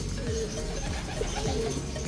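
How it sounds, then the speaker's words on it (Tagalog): A pet bird returning home coos in soft, repeated low calls, close and clear over a steady background hum. "Tingnan nyo po bababa yung ibon natin."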